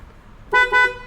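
A Volkswagen Polo's car horn honks twice in quick succession, loud and close, each blast short and bright.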